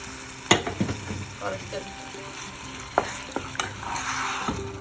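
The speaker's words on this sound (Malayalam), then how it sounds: "ഒരു 1/4 കപ്പ് വെള്ളം ചേർത്ത് നന്നായി ഇളക്കി." Chicken liver pepper fry is stirred in a frying pan after a little water is added, with scraping strokes and clinks over a steady sizzle, close by, with faint background noise.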